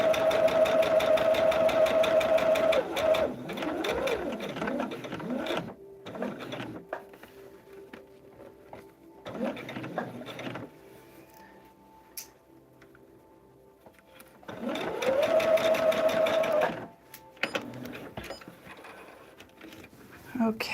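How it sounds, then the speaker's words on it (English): A sewing machine stitches down a pattern line on a table runner, with two loud steady runs of fast mechanical whirring at the start and near the end, and quieter handling sounds and brief pauses between. "We're just going to sew down this solid line."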